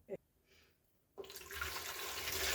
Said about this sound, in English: I put 250 of cold water and add 100 mils of boiling water